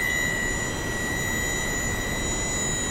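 Porsche Mission R electric race car in iRacing giving off a steady, loud high-pitched whine like a Learjet APU, with sustained tonal layers over a constant broadband rush and no voices.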